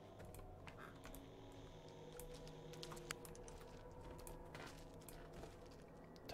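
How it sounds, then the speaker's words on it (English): Typewriter keys clacking in the horror video game Blair Witch, a faint, irregular run of quick mechanical taps spread over several seconds with a low ambient hum beneath. "Typewriter?"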